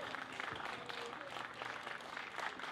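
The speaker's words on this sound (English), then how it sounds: "Another round of applause, please." An audience at a Juneteenth celebration in Keene, New Hampshire claps in a steady, continuous patter that sounds faint and distant throughout.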